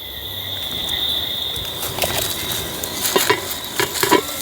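Onion, sweet pepper and garlic sautéing in a Jamaican curry, a steady close sizzle with scattered crackles and pops growing busier toward the end.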